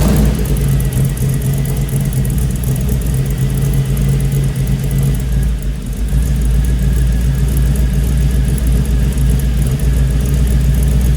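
A truck engine fitted with MagnaFlow mufflers runs steadily at idle, a loud, continuous low rumble with a faint whir, heard close up with no voices.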